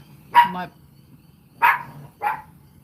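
A dog barks three times nearby, loud sharp barks with a pause after the first.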